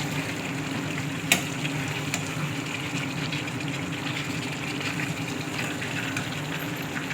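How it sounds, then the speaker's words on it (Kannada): Pepper dry chicken fries in a pan with a continuous soft sizzle and hiss, steady throughout, with one brief sharp click of a utensil early on and no talking. "ಚೆನ್ನಾಗಿ ಫ್ರೈ ಆಡಬೇಕು ಫ್ರೆಂಡ್ಸ್ ಇದನ್ನು."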